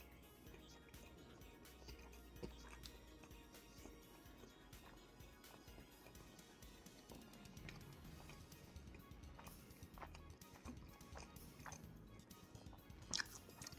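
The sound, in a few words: chewing a bite of Portillo's food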